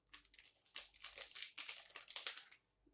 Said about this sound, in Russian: Сюда же я высыпаю пакетик ванильного сахара.